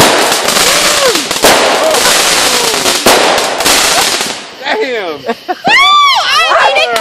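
Firework cake shots crackle and burst in a dense, loud barrage, then whistling flaming-fish effects with sharp reports rise and pop at the end, while a crowd outdoors talks and cheers.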